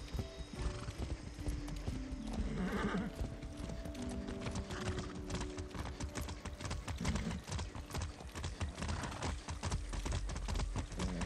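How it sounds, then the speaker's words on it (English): Steady clip-clop of horse hooves at a trot in the video game Far Cry 6, with an occasional whinny over a low rumbling background, loud and continuous. "riding a horse is pretty fun"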